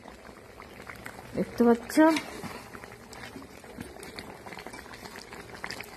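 A 3.5 kg batch of chicken kosha cooks in a pot with a steady, soft bubbling and simmering throughout, while a voice speaks briefly in the middle.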